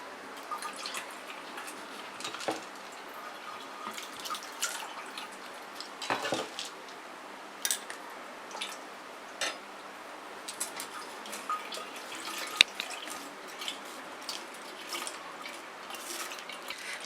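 Soaked tamarind being strained with water in a home kitchen to make the sour water for pani puri (gol gappay), giving steady dripping and trickling liquid with occasional clinks of utensils against a bowl, close by with no talking.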